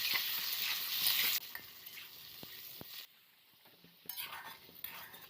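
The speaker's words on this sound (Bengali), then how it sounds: "কচু আর আলু একসাথে আমি ভেজে নেব।" Taro and potato pieces frying together in oil with a little salt and turmeric, a steady crackling sizzle at moderate level that drops quieter partway through with occasional clinks of a utensil stirring.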